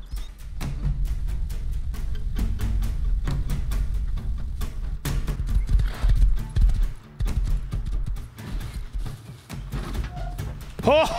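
Rapid hoof clip-clops drum over a noisy Rust game mix, with a voice talking intermittently.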